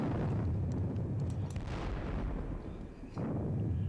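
Cannon fire in a Napoleonic Battle of Bautzen wargame, with 6-pounder guns and Guard 12-pounders shooting, as a sustained rumble of overlapping booms and bursts, with a sharper crack near the end.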